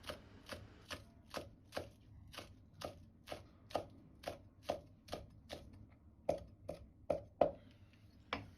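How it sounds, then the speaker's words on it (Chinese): Knife chopping scallion greens into small pieces on a board, heard as an even, brisk series of roughly twenty crisp taps close up, with no one talking. "再把蔥葉切成蔥花"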